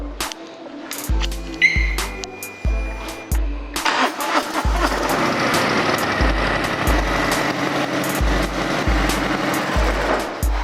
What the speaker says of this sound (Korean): 머플러 소리도 경박하지 않고 중저음으로 아주 좋은 모습을 보여주고 있고요